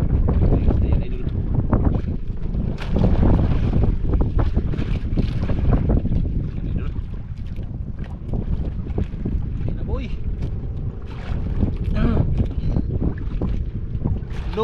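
Boat engine and water noise with wind buffeting the microphone, steady and close throughout.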